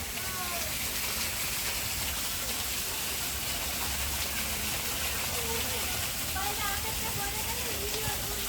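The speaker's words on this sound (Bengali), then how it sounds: "এই দেখো কত বৃষ্টি হচ্ছে" Heavy rain pours down steadily over a flooded neighbourhood, a dense, constant hiss of drops on water and surfaces all around, with a voice speaking over it.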